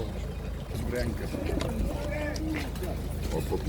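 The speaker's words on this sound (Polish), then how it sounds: "Takie gołąbki ma Paweł" Pigeons coo among the crowd at a busy pigeon market, soft repeated warbling calls half-buried under steady low background noise and nearby talking.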